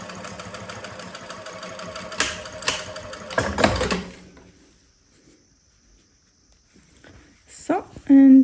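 A sewing machine stitches along an elastic-waist mini skirt seam in rapid mechanical bursts for about four seconds, then stops, leaving near silence before a brief sound at the end.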